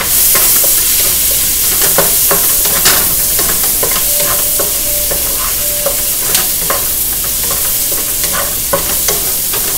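Chicken fried rice cooking in vegetable oil in a pan, with a loud, continuous close sizzle and frequent sharp scrapes and taps as the rice is stirred and pushed aside.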